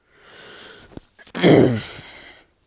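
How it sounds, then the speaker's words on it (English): A single short, gravelly throat clear from a nearby person, preceded by quiet breathing. "I have to, like, clear my throat so much."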